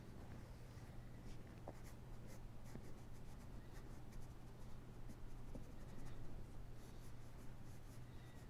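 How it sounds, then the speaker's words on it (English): A technical pen scratches lines across paper in a steady, soft, continuous scratching at close range, faint over a low background hum, with no voices. "because these are technical pens, I'm not going to get line variety out of him"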